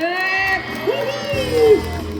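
A crowd cheers and shouts steadily at a sauna opening's trot music show, many voices whooping together in a lively, continuous roar.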